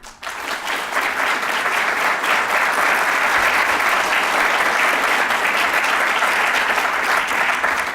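Steady, loud applause from a large audience at an LA County sheriff candidate debate fills the room, a continuous wash of clapping that starts abruptly and holds without pause.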